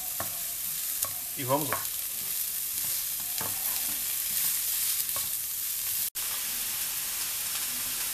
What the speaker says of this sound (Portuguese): vamos mexer aqui um pouquinho para misturar o azeite, a cebola e o alho